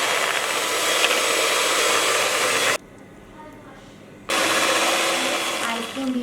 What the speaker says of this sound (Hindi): और अब हम इसमें 1 कप कंडेंस मिल्क डाल देंगे। मैं शुगर नहीं डाल रही क्योंकि इसमें ऑलरेडी शुगर मौजूद है। अब हम इसको बीट कर लेंगे।